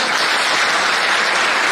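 Crowd at a farmers' leaders' rally and meeting in Buldhana claps in a brief, dense burst of applause, loud and close, with no talking over it.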